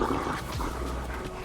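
The Houndmaster's dog in the game Dead by Daylight pants and whimpers close by, sounding steady through a dense bed of in-game ambience.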